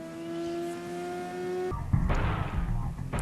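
Ridge Racer on the PlayStation, a racing car game: first a steady high engine whine, then a sudden cut to a louder burst of skidding and tire screech with rough engine noise, all close and without speech.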